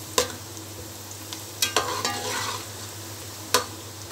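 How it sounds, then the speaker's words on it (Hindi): Onions stirred and browning in a pan in a home kitchen, a few distinct scraping stirs over a faint steady frying hiss, close and fairly quiet with pauses between strokes. "प्याज ब्राउन कर रही हूँ"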